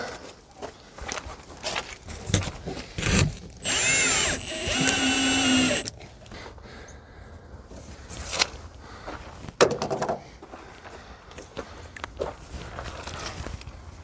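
A power drill drives 2-inch drywall screws into foam board for RV skirting, giving two whirring bursts of a couple of seconds each among handling knocks and shuffling steps.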